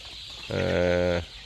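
Chickens settling onto a newly built roost give a single loud, drawn-out call, close by and lasting under a second, with no talk over it.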